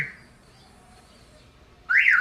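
A short electronic Toyota car alarm chirp sounds after a quiet pause, triggered by the key fob lock button, a bright warbling beep at close range.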